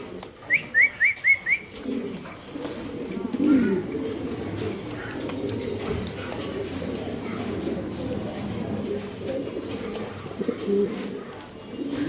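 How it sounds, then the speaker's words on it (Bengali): Pigeons at a pigeon farm coo with low, throaty murmurs, after a quick run of bright whistle-like calls at the start, set against a busy ambient background. "দেখেন কবুতরের ডাক দেখেন"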